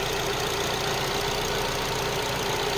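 A SsangYong Tivoli car engine idles steadily at low volume, a smooth even hum with a faint rhythmic pulse and no voices.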